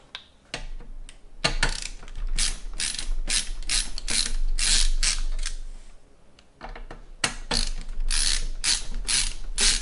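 Screws being removed from a Lian Li A4-H2O PC case, rapid ratcheting clicks of a screwdriver in repeated close bursts with short pauses between.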